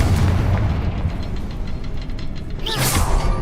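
A Confringo fire-spell blast in the video game Hogwarts Legacy: a heavy booming explosion with rumbling low end, followed near the end by a sharp bright whooshing burst.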